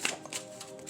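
Playing cards, apparently a tarot-style deck, are shuffled by hand in a quick burst of riffling and sliding snaps, close and fairly soft, lasting under a second with no talking.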